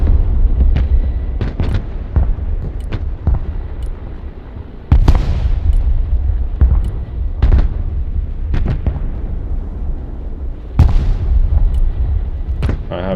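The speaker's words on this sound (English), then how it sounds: "The bass of the explosions is so good." Battlefield explosions from the Broken Arrow war game boom repeatedly, loud deep blasts and sharp cracks going off at irregular intervals across the whole stretch with no talking.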